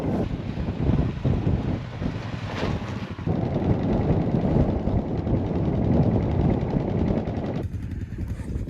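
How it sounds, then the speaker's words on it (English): Strong wind at night in the California desert roars and buffets the microphone in a loud, continuous rush that swells and eases without letup. "It is super windy up here."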